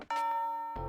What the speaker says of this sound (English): That bell signaling the end of classes sounds.